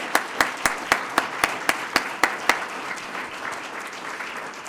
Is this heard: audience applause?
yes